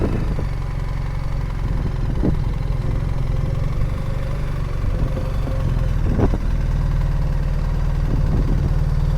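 A BMW R 1300 GS Adventure motorcycle engine idles steadily and close by, with a low constant rumble and a few brief louder blips, no talk over it.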